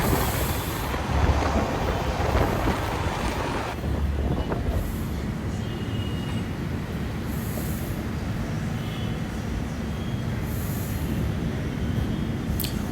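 Okha–Ernakulam passenger train 16337 runs steadily along the line in Kerala, a continuous loud rumble and rattle of wheels and carriages with a brief shift in tone partway through, no voices.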